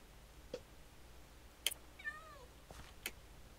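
A video-game cat in Minecraft gives a couple of short, faint meows amid a few soft clicks, in a quiet scene with no one talking.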